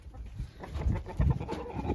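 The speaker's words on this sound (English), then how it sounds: "Ben, that rooster" A farmyard rooster clucking and calling in short, rough bursts, fairly close, with rustling and movement noise around it and no speech.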